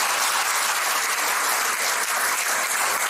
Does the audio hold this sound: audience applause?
yes